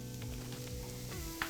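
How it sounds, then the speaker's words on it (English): Onions frying in hot olive oil in a pan, a steady close sizzle with a brief clink near the end. "So my oil and pan is nice and hot. What I'm going to do is add in our onions."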